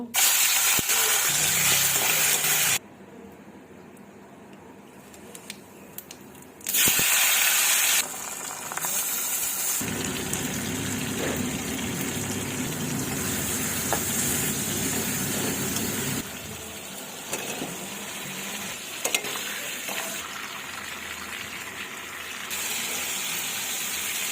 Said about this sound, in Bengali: এখন আমি মাছটাকে ভেজে নেব।